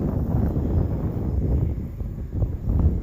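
Strong gusty wind buffets the microphone out on an RC flying field, a continuous low roaring rumble that swells and dips throughout.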